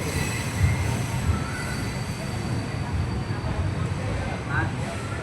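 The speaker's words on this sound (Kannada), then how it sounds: "ನಮ್ಮ ಟ್ರೈನ್ ಇವಾಗ ಸ್ಲೋ ಆಗಿ ಡಿಪಾರ್ಚರ್ ಆಗ್ತಿದೆ ತಂಜಾವೂರಿಂದ ಟುವರ್ಡ್ಸ್ ತಿರುವರೂರು ಜಂಕ್ಷನ್ ಕಡೆಗೆ" A train pulls slowly out of Thanjavur station toward Tiruvarur Junction, its steady low rumble and rolling rattle filling the whole stretch at close range, with a brief faint wheel squeal near the end.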